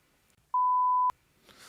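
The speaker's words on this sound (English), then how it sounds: "So we'll beep that out." A single steady censor beep, loud and clean, bleeps out a word for about half a second, with near silence on either side.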